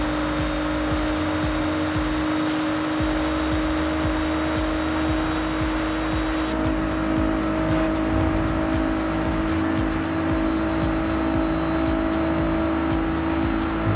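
Car engine in Forza Horizon 5 rising in pitch as the driver accelerates, a steady loud drone with a high whine layered over it, running continuously and unaccompanied by voices.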